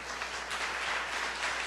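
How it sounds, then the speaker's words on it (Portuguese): A church congregation applauds during a sermon, a continuous wash of many hands clapping at a moderate distance, steady throughout with no voices over it. "Você pode aplaudir ao Senhor?"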